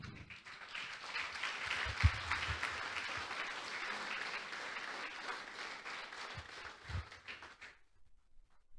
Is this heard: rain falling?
no